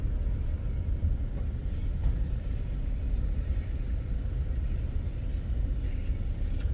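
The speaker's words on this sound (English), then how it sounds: "you really have to creep through here, because you'll be driving through like 5 miles an hour, 10 miles an hour" A car creeps slowly through a hotel valet area on the Las Vegas Strip at night, giving a steady low rumble of engine and road noise with no distinct events.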